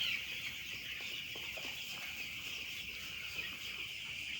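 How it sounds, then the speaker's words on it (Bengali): Broiler chickens cluck and chirp softly while drinking water mixed with vaccine, a steady flock chatter with a few brief louder calls, no talking. "অনেক ভালোভাবেই খাইতেছে সব মুরগি"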